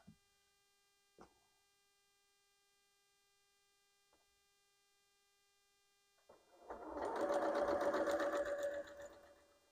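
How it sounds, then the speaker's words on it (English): A sewing machine stitches a log cabin quilt block piece. A couple of faint clicks come first, then a steady close whirring run lasting about three seconds, with no talking. "now we're going to sew this piece on"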